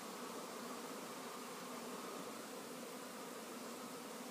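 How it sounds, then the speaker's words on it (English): A dense, steady buzzing of many honeybees swarming fills the air, constant and unbroken, hovering all around. "These are my bees. They are swarming today,"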